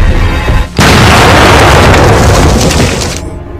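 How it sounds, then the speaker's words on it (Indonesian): A loud, close explosion bursts in suddenly, a broad roaring blast that rumbles on for a few seconds before easing off. "Akan tetapi mereka pun langsung dikejutkan dengan ledakan."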